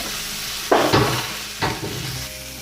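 Tempering sizzles in a pan, with two or three sharp bursts of spluttering crackle and stirring scrapes over a low background hiss.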